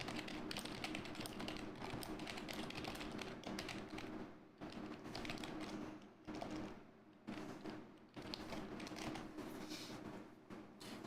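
A computer keyboard is typed on in quick bursts of soft clicking taps, separated by short pauses, faint and close with no talking.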